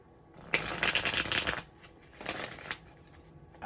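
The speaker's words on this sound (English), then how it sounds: "One more shuffle here." Oracle cards are shuffled close up in two brisk riffling bursts, a longer one followed by a shorter, softer one, with quiet between.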